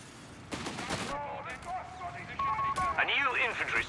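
Machine gun fire in Company of Heroes 3, gunfire bursts mixed with game sounds and radio-like effects, fairly busy, with voices talking over parts of it.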